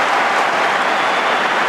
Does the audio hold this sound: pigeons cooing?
no